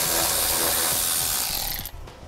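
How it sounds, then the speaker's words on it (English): A ratchet with a 10mm socket turns out a 10mm bolt on a vehicle's underside, giving a rapid, close clicking whir that runs for about two seconds before stopping. "we're going to be removing the 10mm headed bolt that's right here."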